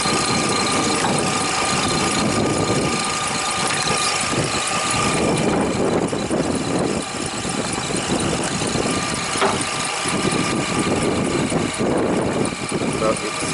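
Toyota Highlander engine idling at a steady, even rumble with a faint high whine running through it, heard close up with no pauses.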